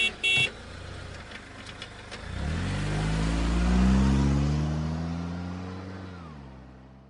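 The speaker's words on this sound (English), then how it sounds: "So this is a vehicle." A car engine starts up and drives past, with a brief horn-like blip at first, then a rising, swelling engine drone that peaks midway and fades as it moves off; nobody speaks.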